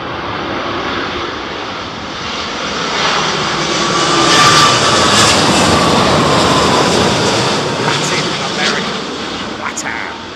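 An airliner lands in strong storm winds at Heathrow Airport, its engine roar swelling to a loud peak mid-way and then easing, with a broad rushing tone under gusty wind noise.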